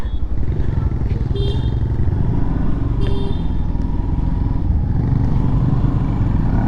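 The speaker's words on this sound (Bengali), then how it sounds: "এখন আমরা বাইকের ফুয়েল আপ করব তো তো চলো ঢুকে যাই পেট্রোল পাম্পে" A motorcycle rides into a petrol pump on a road trip, its engine a steady loud low rumble throughout at close range, with brief clatters and faint passing traffic.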